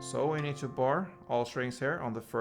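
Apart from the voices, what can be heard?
No everyday noise stands out behind the speech.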